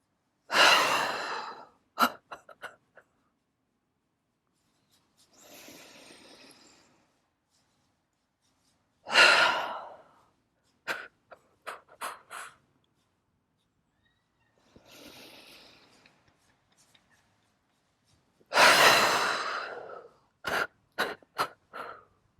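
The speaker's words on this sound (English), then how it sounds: "So inhale through your nose." Slow, deep nasal inhalations during a guided yoga breathing exercise, each long airy breath followed by a few short sniffs, repeated three times with quiet pauses between, close and fairly soft.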